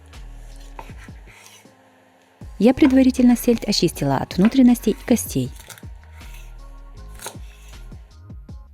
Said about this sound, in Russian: Филе селедки нарезаем порционными кусочками.